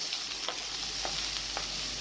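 Red and green sweet bell peppers stirred in a hot pan for vegetable fried rice, giving a steady low sizzle with soft scraping stirs about every half second, close and fairly quiet.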